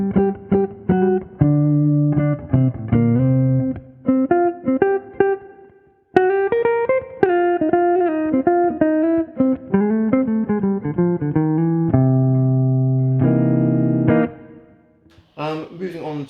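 Clean Eastman AR372CE electric guitar on the neck pickup, with a warm, dark tone, plays a melodic line of picked single notes and chords, close and clear, with brief pauses between phrases.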